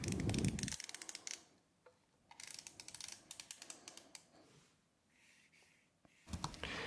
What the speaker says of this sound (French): tourner la manivelle située sur le flanc droit pour faire coïncider le repère de début de film de la bobine avec le repère de l'appareil